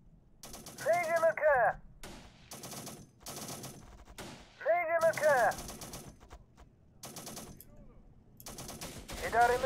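Bursts of rapid automatic gunfire from a Warfare mod battle video game come in several clustered volleys with brief pauses, close and punchy, while a person talks between shots.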